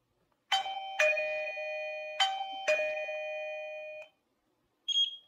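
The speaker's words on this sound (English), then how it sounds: "Okay, I heard the beep." Eufy video doorbell home base gives a sync beep: four loud, clear electronic tones in a rising chime pattern over about four seconds, then a short higher beep after a pause, no talking.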